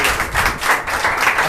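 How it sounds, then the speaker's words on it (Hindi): A church congregation at a Thursday service breaks into brisk, dense applause, with many hands clapping loudly and continuously in an indoor space. "जोरदार ताली हो जाए प्रभु यीशु मसीह के लिए"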